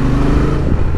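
A Honda Transalp 750 motorcycle pulls hard in sport mode, its engine note loud, close and steady through a brief burst of acceleration with no voices.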